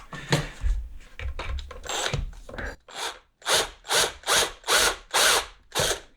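A drill bores into the wooden body of a Supertelecaster electric guitar to route wiring, sounding as a series of about six rhythmic grinding, scraping pulses, close and fairly loud, after a stretch of irregular scraping.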